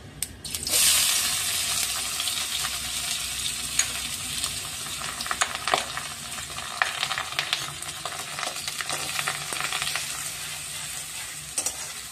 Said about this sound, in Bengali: পেঁয়াজটা একটু ভালো করে ভাজতে হবে